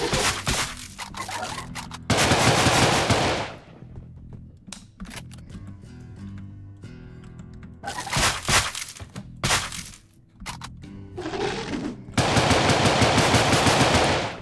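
Loud gunfire from the top-down shooter Deadbolt comes in several dense automatic bursts, each lasting a second or two, separated by quieter stretches of scattered single shots, cracks and thuds.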